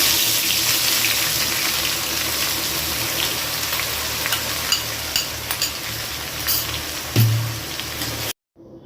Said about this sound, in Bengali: পেঁয়াজের পেস্টটা খুব ভালোভাবে তেলের সাথে ভেজে নিতে হবে